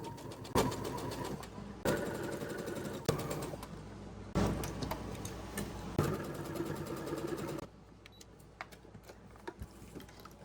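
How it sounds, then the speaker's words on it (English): A sewing machine stitches around the seam of a tote bag in several sustained whirring runs broken by brief stops, fairly close, with a quieter idle stretch and faint clicks at the end. "I'm going to start just beyond that clip and sew all the way around"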